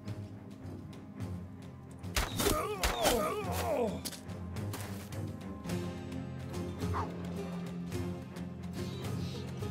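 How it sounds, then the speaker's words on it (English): Dog barking in the video game Battle Brothers, a burst of several sharp barks and yelps around the middle, set against steady game ambience and background music. "Somebody do something about that dog."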